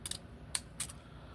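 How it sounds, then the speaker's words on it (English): Fancy decorative scissors snip the edge of paper for a mini Christmas accordion booklet, three quick crisp cuts spaced apart, close and fairly soft, with no voices. "I'm just gonna cut the edge off with the fancy scissors."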